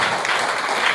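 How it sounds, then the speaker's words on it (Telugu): Loud, continuous audience clapping at a Widows' Day gathering in L. Kota, a dense wash of hands filling the brief moment with no break. "గట్టిగా చప్పట్లు కొడతాం."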